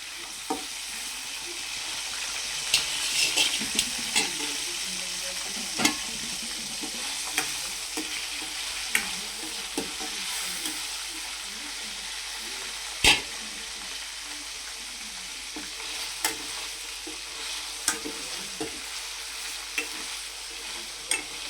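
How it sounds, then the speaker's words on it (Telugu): Pieces of salted fish fry in plenty of oil, giving a steady close sizzle and crackle. Occasional sharp clicks and scrapes of stirring come through, with no talking. "ఇందులో ఈ ఉప్చాప ముక్కలు వేసేసుకుందాము దోరగా యాగనివ్వాలి ఈ ఉప్చాప ఫ్రై కొంచెం ఆయిల్ కూడా ఎక్కువ పడుతుంది"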